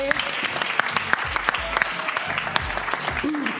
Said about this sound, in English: give a round of applause to all of our players coming to the stage